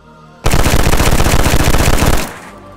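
Rapid automatic gunfire from point firing in the video game DayZ bursts in loudly, a dense rattle of shots lasting about two seconds before cutting off.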